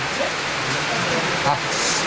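Rain falls during a street protest, a steady broadband wash of drops with faint voices underneath.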